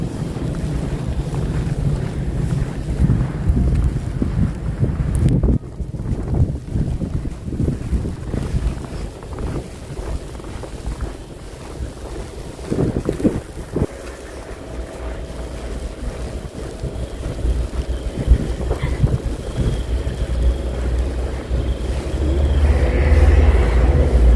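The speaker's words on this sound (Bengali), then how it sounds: "এত পরিমাণে হাওয়া যে বরফগুলো ধোঁয়ার মতো করে উঠছে হাওয়ার মধ্যে" Strong wind roars steadily into the microphone during heavy snowfall at -8°C in St. Petersburg, Russia, whipping up snow like smoke, with heavy buffeting gusts and no voices, louder toward the end.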